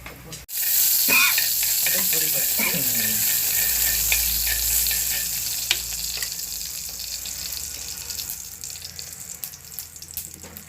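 A sudden burst of sizzling as mustard seeds hit hot oil, loud crackling and spitting that gradually settles into a softer, steady fry.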